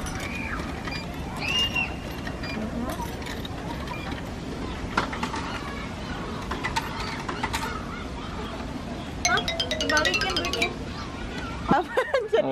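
Mechanical whirring and sharp clinks from a vending machine in Osaka, Japan, most distinct near the end, rising over a busy, steady background hum with occasional nearby voices.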